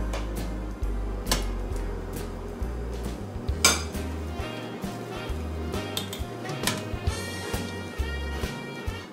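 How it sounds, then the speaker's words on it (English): Pesto being mixed into spaghetti squash in a large bowl, heard as repeated utensil clinks and scrapes against the bowl with a few sharper knocks over low kitchen rumble, no talking. "I'm going to go ahead and mix just about a tablespoon of our pesto into the mixture"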